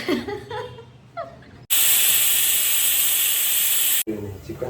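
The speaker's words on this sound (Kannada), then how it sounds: "ಕುಕ್ಕರ್ ಎರಡು ಸಿಟಿ ವಿಸಿಲ್ ಆಗಿದೆ" A pressure cooker whistle blasts a loud, sharp hiss of escaping steam for about two seconds while biryani cooks, with voices and a chuckle just before and after it.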